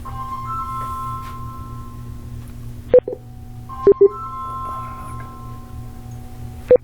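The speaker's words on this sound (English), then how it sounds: "I got a phone ringing in the background." A telephone rings in the background of a quiet room where an Interacoustics audiometer is being calibrated. Its steady electronic tones hold throughout, broken by a few sharp clicks, and no one speaks.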